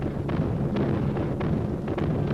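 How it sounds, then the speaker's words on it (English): Heavy anti-aircraft flak bursting during a June 1944 bombing raid over German-occupied northwestern Europe, heard as a continuous dense rumble with several dull booming thuds spaced across it, muffled and noisy like an old newsreel soundtrack. "Flak was heavy over some targets."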